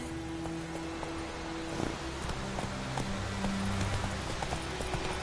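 Horse hooves clip-clop steadily during riding in a fantasy video game, a regular walking rhythm over a soft ambient music bed, fairly close and moderate in level with no talk.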